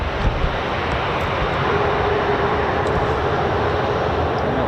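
A KC-135R tanker aircraft at an RAF air display gives a loud, steady jet engine roar that holds evenly throughout as a broad continuous rumble.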